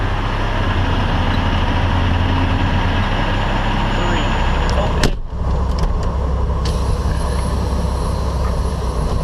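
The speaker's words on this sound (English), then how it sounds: "That's a noisy truck, jeez." Loud, steady diesel truck engine rumble idling close by at a US border entry point, continuous throughout with a brief dip midway, with a person speaking over it.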